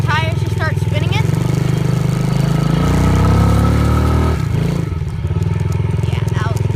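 A motorcycle's engine drones close up as its tires spin in a patch of loose, tiny gravel; the engine rises in pitch mid-clip, then drops back to a steady idle-like hum.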